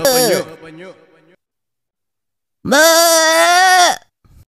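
A goat bleats twice in an animated horror cartoon, close and loud: a short wavering cry, a pause, then a long, steady, nasal bleat.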